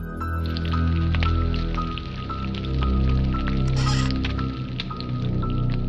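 Granny's thick hot sauce made with capsicum is stirred, giving a continuous wet, squishy churning with dripping sounds over a steady tonal background hum.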